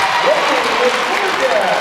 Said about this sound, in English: And she'll draw the cheer